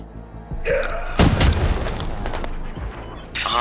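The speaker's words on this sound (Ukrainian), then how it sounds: "Арта, походу." A heavy boom of an artillery strike in combat at Yehorivka lands after a short gasp-like breath, rumbling and fading, with another sharp sound at the end.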